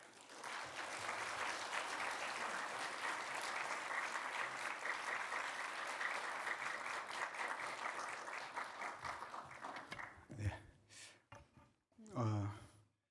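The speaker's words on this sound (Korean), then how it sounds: "우리 박수로 목사님 맞이하겠습니다" Applause from a church congregation at a Sunday worship service welcoming the pastor, loud and sustained for about ten seconds before fading, followed by a few faint breaths and rustles.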